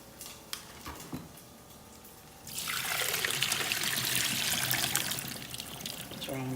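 Water from a pot of cooked collard greens pours into a sink, a loud sustained rush that starts abruptly after a few quiet seconds and keeps going near and steady.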